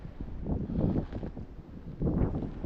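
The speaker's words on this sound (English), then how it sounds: "it is windy" Wind gusts across open ground on a snowy winter walk at about 35°F, a steady rushing roar that swells and eases in waves, with no one talking.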